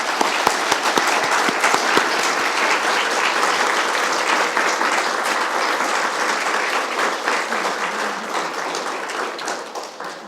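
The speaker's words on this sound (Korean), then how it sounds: "우리 여기 서 있는 성가대, 교사 그리고 집사님들을 위해서 큰 박수 부탁드리겠습니다." A Lutheran church congregation gives long, dense applause for the choir, teachers and deacons standing before them, starting with a few distinct claps and then settling into a steady roar that fades slightly toward the end.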